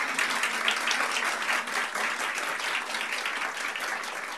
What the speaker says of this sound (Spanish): quisiera proponerles que nos diéramos un aplauso para partir